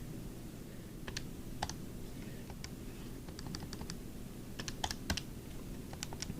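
Calculator keys pressed to enter numbers, a string of soft, sparse plastic clicks coming in small clusters over a quiet hiss, near and faint.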